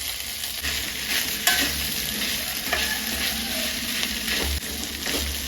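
Cooked rice being stirred into a hot pan for fried rice, with a steady sizzle and the scrape of a spoon repeating every second or so, close and alone.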